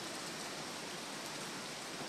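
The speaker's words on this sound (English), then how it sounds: "Right now, it's just a lot of wind, a lot of rain," Hurricane wind and rain roar as a steady, dense wash of noise, constant and unbroken throughout, with no voices.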